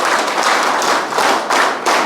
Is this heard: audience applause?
yes